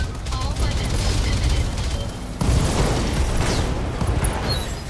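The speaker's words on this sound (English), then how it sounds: "that was ammo explosion and lethal damage" In the mech combat game Battletech, an ammunition explosion erupts amid sustained weapons fire, with dense booms and rapid bursts continuing loudly throughout.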